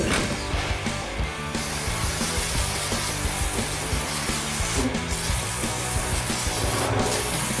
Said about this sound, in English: put some on, and then we'll get sanding.